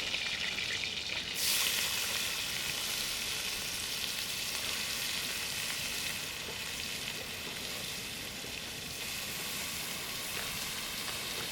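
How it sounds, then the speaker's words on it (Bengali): Chopped onions fry in hot oil with green cardamom, cloves and cinnamon at an outdoor hillside cookout. A steady, close hiss of sizzling runs the whole time without a break. "কিছু কেটে রাখা পেঁয়াজ তেলেতে আমি দিয়ে দিই আস্তে"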